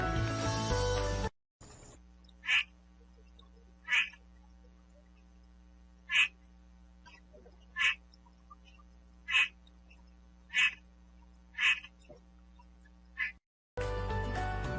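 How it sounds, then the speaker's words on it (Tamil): A series of short, evenly spaced frog croaks, about nine in a row, ringing out over a quiet, steady hum with brief louder sounds at the start and end. "தவளை கத்தும்."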